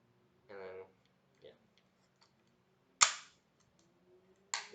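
A VFC MCX airsoft gun fires two sharp, snappy shots a couple of seconds apart, each with a brief trailing echo, following a short burst of speech and a soft click.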